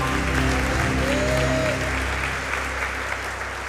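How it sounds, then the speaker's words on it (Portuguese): Church congregation applauding at a Portuguese-language worship service, dense steady clapping that fills the room and eases slightly toward the end, loud and continuous. "Vamos aplaudir o nosso Deus,"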